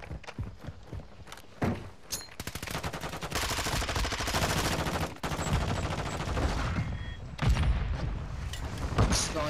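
Rapid video game gunfire, including sniper rifle shots, in dense sustained bursts with sharp cracks and a few footstep-like thuds throughout.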